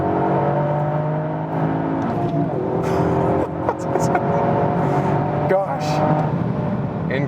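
A Toyota GR Yaris hot hatch drives hard, its engine droning steadily from inside the cabin with shifting revs and brief gear changes, while someone talks over it.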